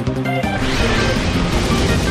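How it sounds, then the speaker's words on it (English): An attack lands in the video game Pokémon Battle Revolution, a loud sudden smashing crash followed by a dense, rumbling impact burst that fills the rest of the moment, with no voice over it. "A fierce blow! It's a direct hit!"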